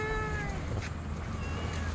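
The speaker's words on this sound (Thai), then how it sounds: "แมวเหรอ คุยเลย" A cat near a canal meows in a drawn-out, wavering cry, close and clear over a quiet background.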